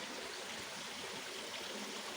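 Flowing water from a small creek beside a campsite, a steady, even rush of trickling stream noise, close and continuous with no voices.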